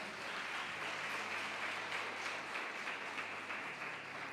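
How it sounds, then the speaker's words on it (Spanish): A church congregation gives a sustained round of applause during a sermon, a dense, even wash of many hands clapping together, steady and full throughout without speech. "Denle un aplauso al Rey de la Gloria."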